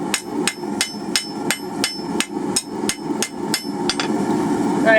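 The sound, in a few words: hammer striking hot steel forging a hanging hook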